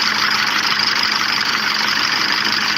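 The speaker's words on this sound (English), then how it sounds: "there's your misfire" Volkswagen engine running with a cylinder misfire, a steady close-up idle drone with a slightly uneven, rough pulse throughout and no voices.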